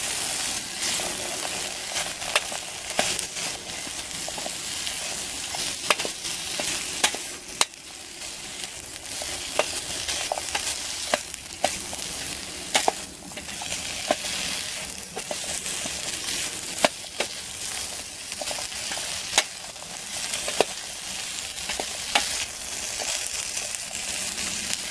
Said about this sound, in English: just give this a bit of a stir before I chop up the potatoes and add them.